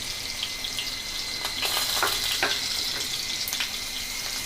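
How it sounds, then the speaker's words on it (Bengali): Chopped onion and green chili fry in oil in a pan with a bright, steady sizzle and a few crisp crackles and stirring scrapes close by. "পেঁয়াজ মরিচ আমি সুন্দরভাবে ভেজে নেব"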